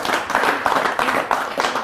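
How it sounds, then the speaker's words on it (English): A small audience claps for a volunteer in a short, close burst of applause, the claps loud and somewhat uneven over about two seconds. "Let's give David a big round of applause."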